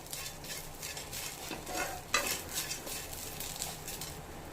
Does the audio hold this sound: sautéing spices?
yes